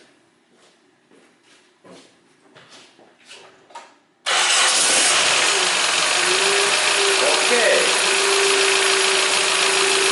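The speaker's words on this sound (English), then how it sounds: "And now I go to start this my engine, and let's look what happens." After an ignition coil replacement, a car sits through several quiet mechanical clicks and a short spoken word, then the engine abruptly fires and runs at a loud, steady, close-up idle for the rest of the clip.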